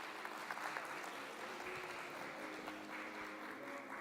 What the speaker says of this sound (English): Can we again give the round of applause to the motivational speakers?